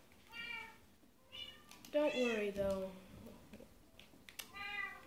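Minecraft cats meow several times, short mews near the start and end with a longer, louder drawn-out meow in the middle, while a person talks over them.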